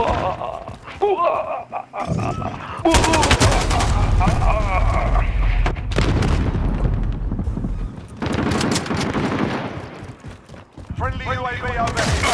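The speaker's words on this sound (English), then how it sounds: "Frag out! Yeah. Grenade out!" Call of Duty: Modern Warfare match with a grenade toss and loud gunfire, bursts and booms spread over the span while players talk excitedly throughout.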